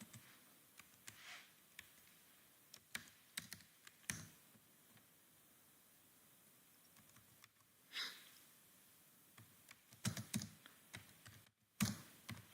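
An email address and password are typed on a computer keyboard: quiet, irregular clusters of key clicks and taps close by, with no talking.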